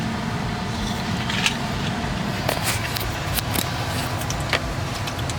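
A Tesla rolls along the road with a steady low tyre and road rumble filling the cabin, while faint clicks and light interior rattles come through now and then.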